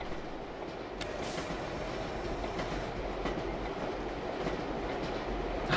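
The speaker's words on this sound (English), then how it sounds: "those trains are loud." Trains pass in the video game The Bus set in Hamburg, a loud steady rail rumble with clickety-clack and short bursts of wheel squeal, continuous and close, with no talk.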